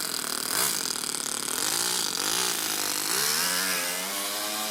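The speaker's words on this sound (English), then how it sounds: "People were complaining about it sounds like a tractor. Yeah, it does a little bit, but it's a single cylinder" A single-cylinder four-stroke overhead cam engine fitted in an RC car runs close by with a buzzy, tractor-like putter, its pitch rising and falling as the throttle is blipped and revved.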